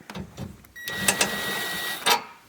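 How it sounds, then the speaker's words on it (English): A driver unscrews the bolts holding the top in place with a star bit, with a whirring run of about a second and short bursts before and after, close and fairly quiet. "I'm just going to unscrew it."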